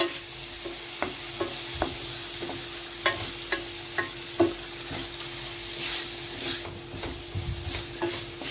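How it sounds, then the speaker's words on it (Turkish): Bulgur pilaf being stirred in a pot, with a spoon scraping and tapping in an irregular rhythm over a steady low sizzle, close and moderately loud, no talking. "Şöyle bir karıştıralım."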